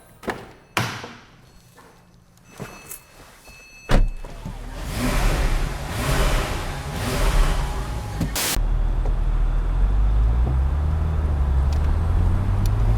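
A door thuds and interior clicks sound, then a 2008 Porsche 911 Turbo engine starts and a steady low drive rumble with road noise builds and holds.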